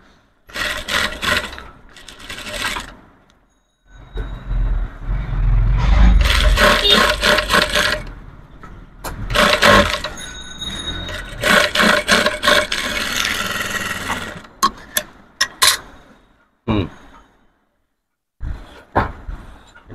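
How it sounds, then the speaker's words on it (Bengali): Sewing machine stitching three-piece dress fabric, running in loud, close bursts of steady mechanical whirring that stop and start, with quiet gaps between runs. "সেলাই করে নিচ্ছি।"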